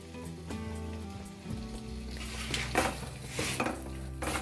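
Paneer capsicum curry with fresh chopped coriander leaves being stirred in a pan, with repeated scraping strokes and light clinks of a utensil against the metal over a low background hum, fairly close.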